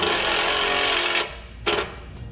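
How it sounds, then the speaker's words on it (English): A power drill drives a self-tapping screw into a vehicle mounting point during an air compressor install, whining loudly and steadily for over a second before stopping, followed by a short second burst of the motor. "then fasten down our self-tapping screw"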